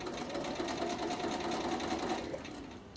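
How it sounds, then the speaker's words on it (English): A sewing machine runs steadily with a fast, even whir, stitching a rolled hem using a Bernina #62 rolled hem foot. It is close and continuous, easing off slightly at the end. "So what I'm going to do now is start sewing."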